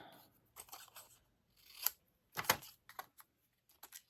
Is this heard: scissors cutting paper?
yes